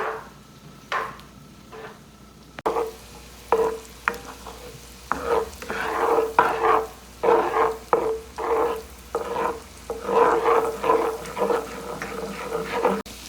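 Garlic sizzling in melted butter in a pan over medium heat, a crackling fry broken up by repeated rhythmic stirring scrapes that come in bursts, close and moderately loud.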